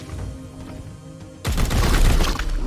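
Loud, dense gunfire from the turn-based strategy game Warhammer 40,000: Chaos Gate - Daemonhunters erupts suddenly after a quieter ambient stretch and continues as a sustained roaring volley.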